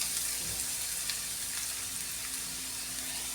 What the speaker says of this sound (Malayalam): ഇനി ഇതിലേക്ക് ഈ സവാള ഇട്ട് കൊടുക്കാമേ.